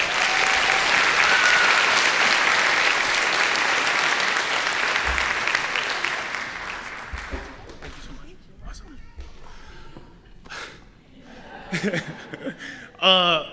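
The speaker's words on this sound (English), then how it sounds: "Let's give a warm round of applause to Adrian Clark" Warm applause from an audience at a scholarship awards speech rings out loudly for several seconds, then thins and fades. Scattered chuckles and claps follow, and a voice speaks near the end.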